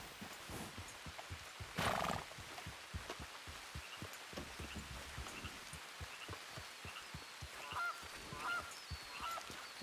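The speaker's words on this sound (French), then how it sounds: "Il y a du canard ou de l'oie, là." Geese or ducks honk outdoors after a storm, short nasal calls repeated irregularly at a distance and fairly faint, over a low background of rustling and knocks.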